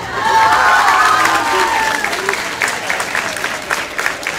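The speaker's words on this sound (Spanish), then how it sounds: "Aplauso grande." An audience at a sci-fi convention applauding: a dense, loud burst of clapping that starts at once and slowly thins out, with a few faint voices mixed in.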